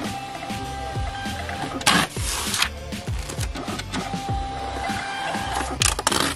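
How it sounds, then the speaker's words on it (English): A roller label printer feeds out shipping labels in repeated mechanical bursts, a close whirring with rhythmic clicking and rubbing as each label advances, plus a couple of louder clunks along the way; no speech. "we're gonna go ahead and print out all the other labels in the roller machine"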